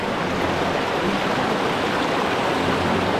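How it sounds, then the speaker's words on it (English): Steady, dense rush of a freshwater river in Maria Aurora, Aurora, Philippines fills the clip, constant and close with no breaks or voices. "Water flowing from this."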